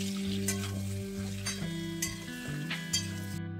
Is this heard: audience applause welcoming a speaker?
no